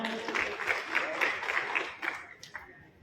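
Applause from an audience at a tribal community joint meeting in Indore, a burst of clapping that swells and then thins out over a few seconds, with voices mixed in.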